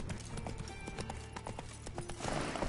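Roach, a horse in The Witcher 3 video game, galloping with quick, loud clip-clop hoofbeats in a steady rhythm, growing denser toward the end, with no talking over it.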